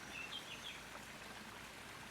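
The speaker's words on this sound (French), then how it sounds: "Une rivière enterrée ressort là." Water from a buried river gushing out of the ground beside a pile of artificial rocks along a garden path, a steady faint rushing with a few bird chirps above it.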